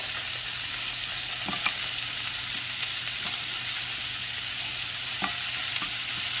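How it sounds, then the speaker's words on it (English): Pork chops and Brussels sprouts cook in a pan with a steady, soft sizzle and crackle, broken by a few clinks and scrapes of stirring, with no one speaking. "so while it's slowly cooking through, let's add some sprouts here."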